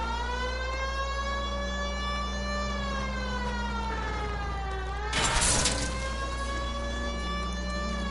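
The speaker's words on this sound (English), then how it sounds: "Just turn on the siren." A loud police car siren in the video game L.A. Noire wails steadily throughout, its pitch sliding up and down, with a brief burst of crashing noise partway through.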